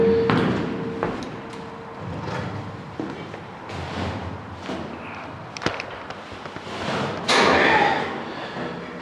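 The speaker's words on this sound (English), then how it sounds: "You'll hear the banging of the canvases outside as well." Irregular thuds and bangs of canvas covers flapping outside a boat-building shed, some sharp and some dull, scattered over several seconds with a steady background rumble.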